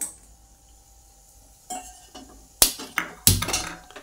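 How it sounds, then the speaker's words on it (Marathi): A ground paste of ginger, garlic, coriander and coconut hits hot oil in a pan after a quiet start, bursting into sharp sizzles with clanks of a spoon against the pan, the frying growing louder in the final seconds. "तेल गरम झालं की आता आपण ह्याच्यामध्ये टाकायचं आहे अद्रक, लसूण, कोथिंबीर आणि खोबरं ह्याचं वाटण केलेलं"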